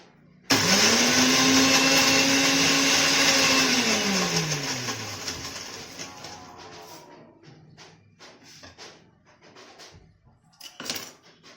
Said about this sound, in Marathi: मिक्सर मध्ये फिरवून घेते।